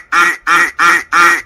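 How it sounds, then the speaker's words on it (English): A duck quacks four times in an even, steady rhythm, each call loud, close and nasal, with silence between them; the voice is an AI-generated duck. "There's the quack sound."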